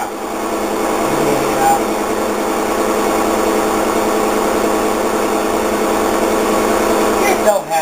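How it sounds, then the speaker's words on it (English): A washing machine spinning out gives a loud, steady mechanical whir and rattle that runs without a break, with a brief voice near the end. "we gotta listen to that washing machine. Spin out."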